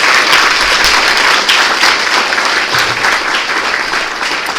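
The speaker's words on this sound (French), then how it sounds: "On peut chaleureusement applaudir à Pierre Lory pour cette intervention." Loud, dense applause from a lecture audience for speaker Pierre Lory after his talk on the figure of Jesus in Muslim mysticism, sustained evenly throughout, close and full.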